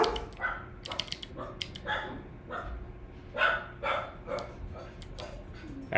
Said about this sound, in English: I'm gonna have to go scold the dogs in a second if they don't stop